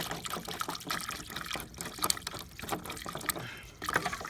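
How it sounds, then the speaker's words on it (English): Water drains from an above-ground pool through the skimmer as a gizmo plug is pulled, giving a close, continuous gurgling and splashing rush with uneven spurts and no talk. "You can hear the water going out as I take that out."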